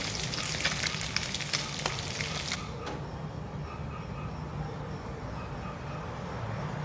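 Fish fries in hot oil in a pan for a Burmese fish curry, a dense crackling sizzle that is loud at first, then eases to a softer, steady hiss, with no talking.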